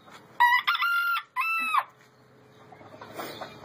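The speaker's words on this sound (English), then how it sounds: "Let's go, chicken. Let's do this sound. Saying cock-a-doodle-doo." A rooster crows nearby, a loud, clear cock-a-doodle-doo in a few stretched bursts, then trailing off into quiet background rustle.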